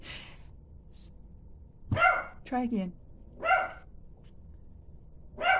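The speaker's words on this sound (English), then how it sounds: "She would start barking now." A dog barks sharply a few times in a room, the yaps spaced out, with a person speaking briefly between them.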